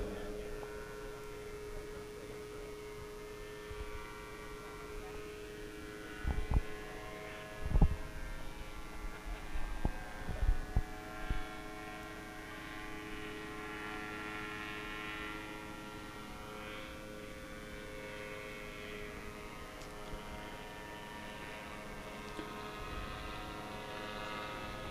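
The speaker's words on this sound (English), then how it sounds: "These paramotors travel at anywhere from 20 to 40 miles an hour." Several paramotors drone overhead while coming in to land, their engines a steady, distant propeller hum that lasts throughout. A few louder thumps and knocks break in briefly near the middle.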